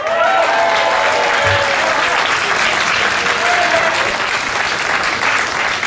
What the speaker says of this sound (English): How about a nice round of applause for Jorge Santana?